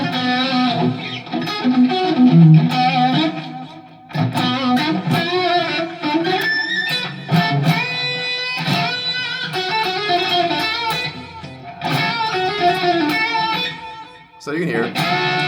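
Electric guitar on a custom Supercaster, single-coil split Strat-style pickup, played with chords and sustained notes under an effects unit and distortion, steady and fairly loud with short breaks, alone without talk.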